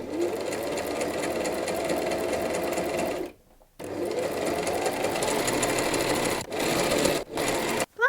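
A home sewing machine stitches lace onto a T-shirt, a fast steady mechanical whir in runs with brief pauses between bursts of sewing, close and clear.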